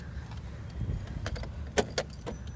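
Car keys with two remote lock fobs jangle faintly over a quiet idle, a few light metallic clinks near the end of a short stretch at a used car lot in Chennai.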